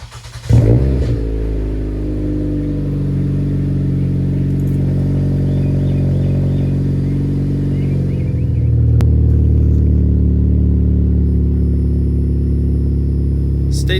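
A 2021 Hyundai Elantra SEL with a muffler-delete exhaust starts up with a sharp bark, then holds a loud, heavy, unbroken low drone for many seconds, deepening slightly toward the end.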